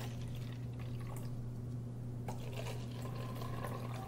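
Water poured from a bottle into a cup, a steady continuous liquid pour running alone for several seconds at moderate closeness.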